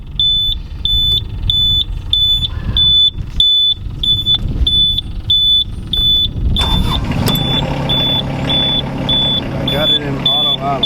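A 2020 Yanmar Vio25-6A mini excavator cranks and its diesel catches and settles into a low idle partway through, with a warning beep repeating steadily throughout and someone talking nearby.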